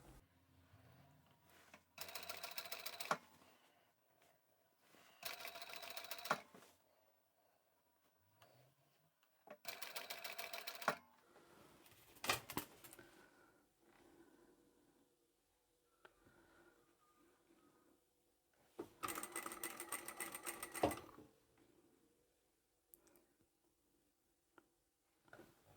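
A sewing machine stitches a blouse hem in several short runs of rapid, even clatter, separated by quiet pauses and faint handling of fabric, recorded close in a quiet room.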